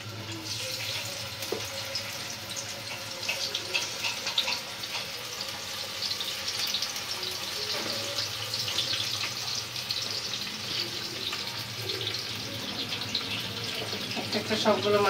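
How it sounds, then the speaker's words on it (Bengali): Tatkini fish fry in hot soybean oil in a pan. A soft, continuous sizzle with light crackling runs steadily throughout, fairly quiet and close. "তেল গরম হয়ে গেছে, এখন মাছগুলো দিয়ে দিব।"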